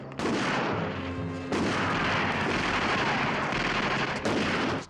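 Gunfire from the 1965 James Bond film Thunderball, loud sustained bursts of shots and booming blasts filling nearly five seconds, with a brief lull around one and a half seconds before the firing resumes.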